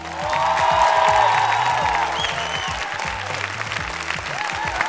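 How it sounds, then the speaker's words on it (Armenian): Concert audience applauding at a national singer gala concert, sustained clapping that swells and then settles, with a voice talking over it and some music in the background. "եւս մեկ անգամ ծափարենք"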